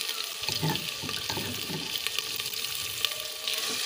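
Ginger garlic paste fries in a pan with chillies, a continuous hissing sizzle with a few stirring scrapes early on, close and fairly loud, with no voice.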